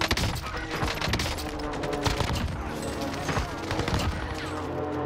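Airstrike explosions in a shooter video game land as a dense, continuous barrage of rapid blasts and crackling gunfire, loud and close throughout.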